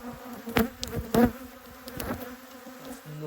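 Honeybees buzz around an open hive in a soft, steady drone, with a few louder passes as single bees fly close to the microphone.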